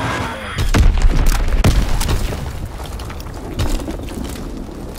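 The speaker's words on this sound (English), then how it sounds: "Dropping Fritz X bomb." A Fritz X guided bomb drop in the Call of Duty WW2 shooter hits with a heavy boom and rumbling blasts, loud and close, followed by a fading low roar with scattered crackles.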